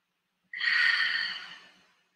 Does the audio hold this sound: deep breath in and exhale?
yes